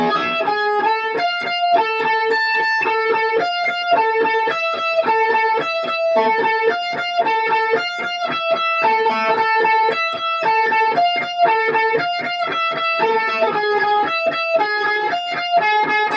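An electric guitar plays a riff at a slowed tempo, a fast, steady run of picked notes repeating for the whole stretch, close and clear, with no voices.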